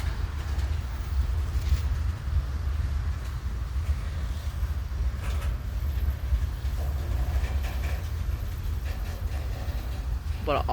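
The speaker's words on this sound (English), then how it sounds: "There goes that train right there." A heritage train rolls past on the rails with a continuous low rumble and faint clatter, moderately near and steady throughout.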